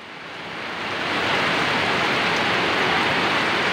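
Loud, continuous rainfall hisses and roars nearby, rising gently at the start before settling into an even, heavy pour; no one speaks.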